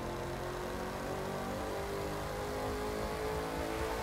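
A car engine drones steadily as it accelerates in the racing game The Crew 2, a continuous, fairly quiet whir with no talking.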